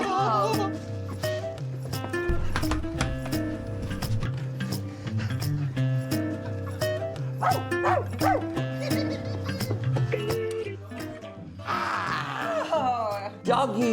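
A cartoon dog barks and yips in short repeated bursts over bouncy background music, with character voices chattering around it in a children's animated delivery show.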